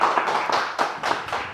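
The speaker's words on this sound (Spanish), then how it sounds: "Yo quiero pedir un aplauso para nuestros invitados, para la producción y para ustedes." An audience at a televised panel on Mexican democracy and elections claps for the guests and production crew, a few loud, close handclap bursts in an uneven rhythm.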